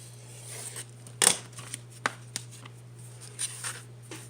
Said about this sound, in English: So all I'm using is a utility knife to cut through it.